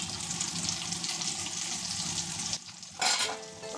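Turmeric and red chilli powder frying in a pan while cooking an Afghani egg curry, a steady close sizzle that breaks off briefly, then returns as a brighter hiss with a faint tonal ring.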